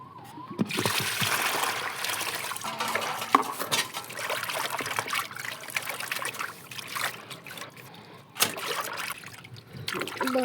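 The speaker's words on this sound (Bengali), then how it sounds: "মামা নিয়ে এসে ফিশ কটা ধোবো এখন" Tap water running and splashing while fish is washed, an uneven trickle and splatter with occasional clinks of a pot, close by, with faint voices in the background.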